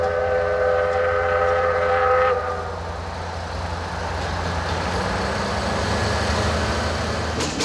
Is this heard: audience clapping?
no